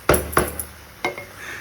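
Cooked rice and dal tipped from a pressure cooker into a pan for sambar rice, with a few sharp metallic clanks and scrapes of utensil against the pan, spaced out and close by.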